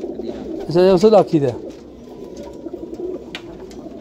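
A Teddy pigeon coos in one short burst in a home loft, close and clear, with someone talking just before and after.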